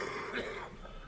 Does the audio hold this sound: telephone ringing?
no